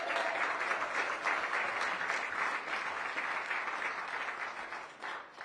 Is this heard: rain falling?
no